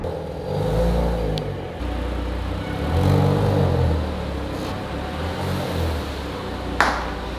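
A wrecked, freshly painted 2018 Audi S5 Sportback is driven indoors, its engine a steady low hum that swells with light revving, broken by a few faint clicks and a brief sharp knock near the end.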